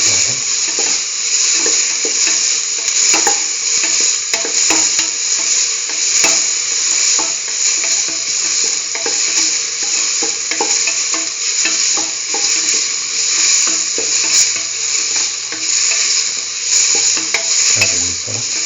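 Broccoli and potato sautéing in a curry sauce in a pan, a continuous close sizzle with bright hiss, punctuated by light scraping and clicking stir strokes throughout, no talk over it.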